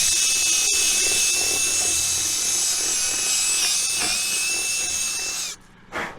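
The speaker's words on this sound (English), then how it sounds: "Need to have a drill bit big enough." A power drill bores and enlarges a hole in metal farm equipment, running as a loud steady high whine for several seconds before cutting off abruptly, then a brief final burst.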